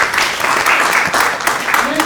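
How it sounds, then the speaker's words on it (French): An audience applauding a guest's entrance into a room, a dense burst of clapping from many people, loud and sustained for the whole stretch. "Je vous demande d'applaudir son entrée dans la salle."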